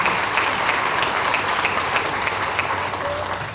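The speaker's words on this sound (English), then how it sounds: "we'll give her a big round of applause" Loud applause from the crowd at a county fair royalty contest, a full, sustained burst of clapping close by that holds evenly and eases slightly at the end.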